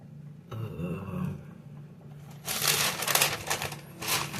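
Rattly gift-wrapping stuffing paper being handled, quiet low rustling at first, then louder crinkling and crackling bursts in the second half, close to the microphone.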